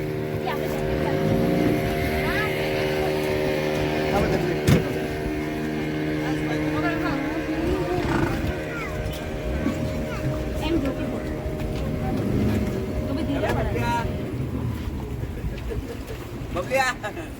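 A passenger boat carries about twenty people to Sindhudurg fort, its engine droning steadily with water and wind noise throughout, while people talk over it.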